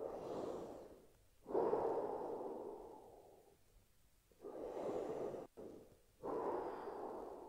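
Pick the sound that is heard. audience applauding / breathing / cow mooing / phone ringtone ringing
breathing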